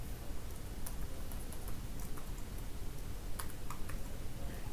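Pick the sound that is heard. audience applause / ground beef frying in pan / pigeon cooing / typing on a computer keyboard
typing on a computer keyboard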